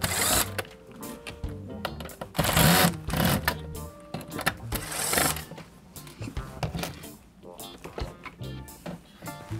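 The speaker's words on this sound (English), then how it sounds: "First job is to take the four screws out." Screws being removed from an Xbox 360 CD drive with a power tool: intermittent buzzing whirs and clicks, close and fairly loud, with someone talking over them.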